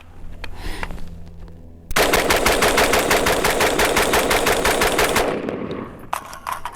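An AR-15 rifle fires twenty rounds of PMC Bronze .223 in a fast, loud, close string of sharp cracks lasting a few seconds, with outdoor echo trailing after.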